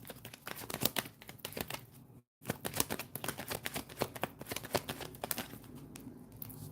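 Tarot cards shuffled by hand in rapid, crisp riffling bursts, close and fairly soft, with one brief pause partway before the shuffling resumes; no talking.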